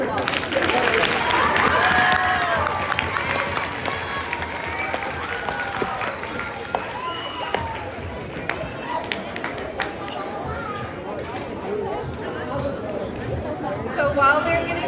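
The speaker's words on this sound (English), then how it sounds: "let's give all of these students a round of applause" A school awards assembly audience at Sonora Middle School claps for students, a busy, sustained patter of applause with crowd chatter mixed in, loudest at the start and gradually settling over about fifteen seconds.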